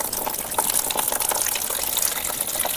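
Filtered water flows steadily down out of a filter, a continuous close gushing and splashing like a running tap that holds an even level throughout with no voices.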